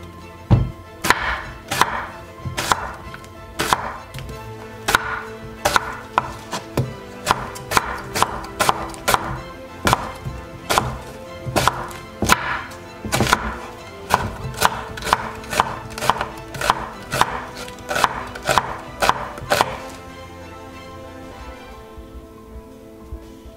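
Onion chopped with a knife on a board: a loud, close run of about thirty crisp, rhythmic strikes that speed up through the middle and then stop, with no talking.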